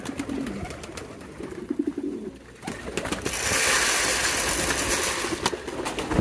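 Pigeons fed on grain scattered on the ground give soft low coos near the start, then a broader rushing noise takes over, with scattered close taps and rustles.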